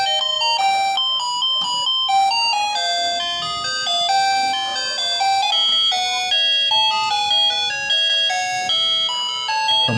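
An electronic doorbell being tested during a repair plays a bright, tinkling multi-note melody that loops steadily and loudly. There is no talking over it.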